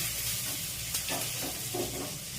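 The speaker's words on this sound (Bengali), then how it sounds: "আলুগুলো এবার ভেজে নেবো। তেল দিলাম, তেল দিলাম, তেজপাতা দিলাম।" Potatoes frying in oil for aloo dum with bay leaf and dried chillies, a soft steady sizzle with a few stirring scrapes, close and fairly quiet.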